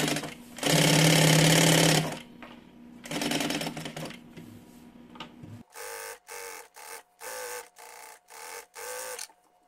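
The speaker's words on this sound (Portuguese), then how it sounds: "Eu só vou costurar o forro, costurando bem na beiradinha." A sewing machine stitches a bag lining along its edge, running first in a long loud burst, then a shorter one, then a series of quick regular stop-start runs, close and clear.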